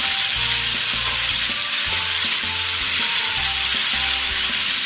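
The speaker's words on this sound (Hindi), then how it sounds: "अब मैं इसको ऐसे फ्राई कर लूंगा।" Chicken frying in a pan for fried chicken biryani, with a loud, steady sizzle and crackle running throughout, alongside faint rhythmic stirring or scraping and no speech.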